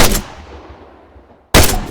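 Gunfire at targets in ARMA III: two loud, close rifle shots about a second and a half apart, the first fading into a long decaying echo.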